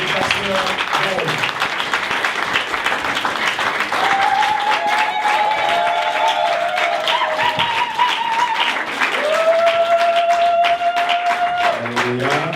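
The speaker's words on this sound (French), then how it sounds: "Acclamons très très fort le Seigneur." A church congregation applauds loudly and continuously, a dense wash of clapping with voices calling out and singing over it throughout.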